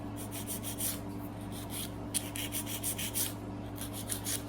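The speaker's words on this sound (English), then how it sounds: "And you just want to file from one side to the other to make sure that the nail is not crooked." A nail file rasps back and forth across a fingernail while shaping a ballerina nail, giving soft, close, rhythmic scratchy strokes over a low steady hum.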